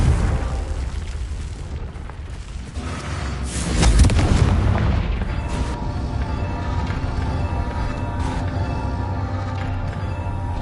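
A Confringo spell explodes in Hogwarts Legacy with a loud, rumbling blast that swells midway and then settles into a sustained roar over busy game ambience.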